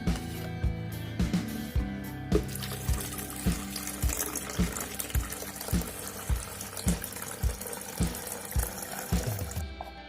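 Water runs steadily into a homemade automatic cool drink machine, a continuous close splashing fill with a faint rhythmic pump-like pulse throughout, no voices.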